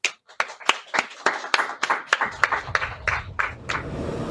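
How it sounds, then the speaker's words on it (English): Hand clapping, a string of distinct sharp claps from a small group, irregular at first and then thickening into a steadier patter, close and fairly loud. "So I would like to applaud them."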